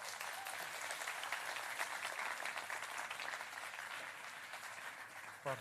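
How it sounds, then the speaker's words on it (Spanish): An audience at a Spanish science outreach talk gives speaker Javier Armentia a warm round of applause, dense and steady clapping held at a fairly even level for several seconds, with a brief louder bump just before the end. "Un fuerte aplauso para Javier Armentia."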